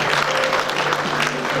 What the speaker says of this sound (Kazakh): Шапалақ ағайын